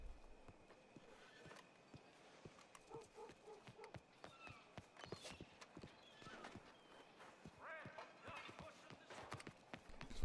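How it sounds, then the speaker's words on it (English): Hooves of a horse clip-clop in an irregular walking rhythm at moderate distance, quiet and mixed with background noise, while people talk faintly. "Whose horse is that?"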